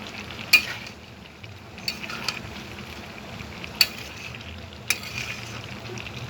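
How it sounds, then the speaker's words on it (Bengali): Potatoes and crushed ginger frying in a pan, a steady soft sizzle with a few sharp clacks of a metal spatula scraping and knocking as the pieces are stirred. "এখন একটু খুন্তি দিয়ে নাড়িয়ে দেব।"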